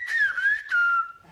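Students at a school in Anglet whistle speech in a whistled language: a loud, close, pure whistled phrase of two gliding, wavering tones with a short break between them.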